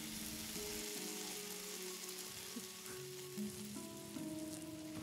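Bacon fries in a pan with a steady close crackling sizzle that runs throughout, heard alone without talking.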